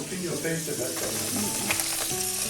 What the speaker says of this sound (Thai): เนี่ยแม่ย่าใส่เนยลงไป